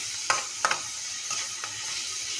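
Egg fry with ponnaganti leaves, coriander powder and garam masala is stirred in a pan. A steady hiss of frying runs under a few sharp spatula scrapes, with no talking.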